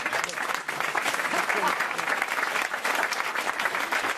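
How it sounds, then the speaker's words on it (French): Studio audience applause on a French radio comedy panel show, a dense, steady wash of clapping that fills the whole stretch at even loudness. "Et vous l'applaudissez."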